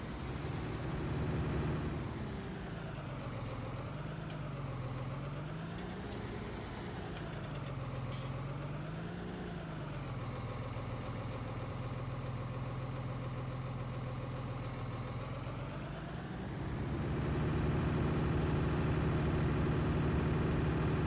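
Tractor engine in Farming Simulator 19 runs steadily throughout, a loud droning rumble whose pitch rises and falls with the throttle before settling into a heavier, louder drone near the end; no one speaks.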